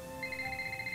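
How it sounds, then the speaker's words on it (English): A cell phone rings in the Nancy Drew video game Secrets Can Kill, a steady electronic ringtone with sustained tones that repeats evenly for the whole second, clear and up close with no talking. "Oh, my cell phone's ringing."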